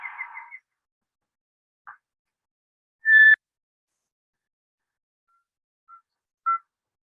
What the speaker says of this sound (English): it is the kukau call